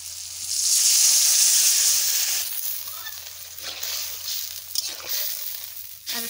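Water hits a hot wok of frying, softened potatoes and bursts into a loud, broad sizzle that holds for about two seconds, then settles into a quieter, steady hiss broken by a few sharp crackles.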